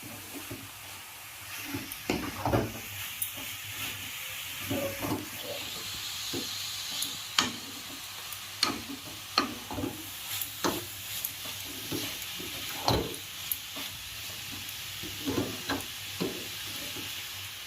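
Grated carrots fry in a pan for gajar halwa with a soft, steady sizzle, broken by repeated scraping and tapping stirs every second or so.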